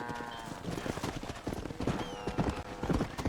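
Horse hooves gallop across open ground in the Western video game Red Dead Redemption, a fast, steady clip-clop close up and loud, with faint game ambience underneath and no talk.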